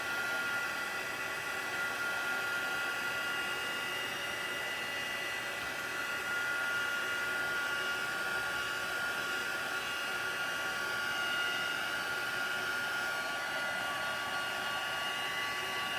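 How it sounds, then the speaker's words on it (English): A heat gun blows hot air in a continuous, even hiss-roar while a car card is being made. The sound is close and steady for the whole stretch, with no talking. "heat gun"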